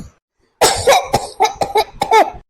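A person coughs several times in quick succession, close and loud, after a moment of silence.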